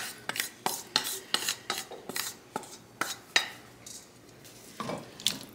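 A spoon works through canned kidney beans and corn in a pot, making a steady series of about a dozen scraping, clinking strokes that are close and fairly quiet, with no talking.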